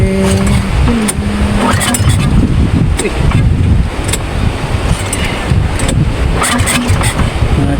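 Engine of a Sumo vehicle with a knocking fault, starting and then running loud and close amid heavy wind buffeting on the microphone, rough clattering throughout.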